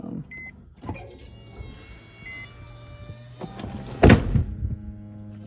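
The hydraulic convertible top of a Porsche 911 (996) cycles with a thin, whining electric-motor hum, then a loud thunk as the mechanism stops, followed by fainter clicks; no voices.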